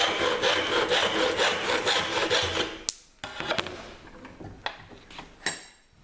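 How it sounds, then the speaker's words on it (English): Hand saw cutting through a piece of wood clamped in a vise, a steady run of rhythmic push-pull strokes for about three seconds, then a few scattered scrapes and knocks as the cut finishes and the piece comes free. "Make the cut down to the second line, turn the wood round 90 degrees, back in the vise"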